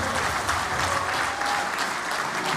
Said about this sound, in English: I think we need to stand and give him a round of applause